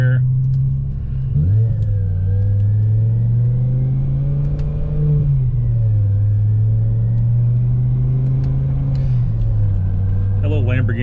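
A BMW E60 M5 with the S85 V10 engine revs while driving, a loud continuous drone that swells and dips with throttle changes and rises in pitch as it pulls.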